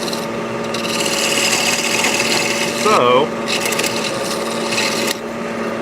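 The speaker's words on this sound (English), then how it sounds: "Now we're just going to use our square tool." A steady rasping scrape of a square carbide tool cutting wood on a spinning lathe, continuous with a constant hum, and a brief spoken word midway.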